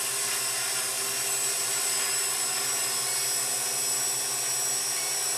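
Walkera QR X800 drone motors whine steadily and loud for the whole stretch after a throttle bump, a dense, even high-pitched drone with no gaps.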